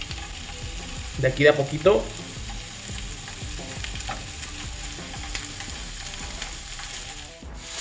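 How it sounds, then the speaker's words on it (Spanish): Bacon-wrapped shrimp drop into a preheated frying pan with a sudden loud burst of sizzle that settles into a steady crackling fry. A brief spoken remark comes over the hot oil. "Vamos a dejar caer nuestros camarones a nuestra sartén previamente calentada."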